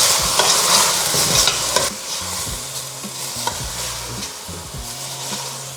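Chicken tinola with green chili being stirred in a pot, a wooden utensil scraping and knocking repeatedly over a gentle sizzle, up close and fairly loud at first, then softer.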